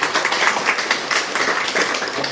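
An audience at a university orientation and motivation session claps together in dense, continuous applause, close and fairly loud, with no talking over it.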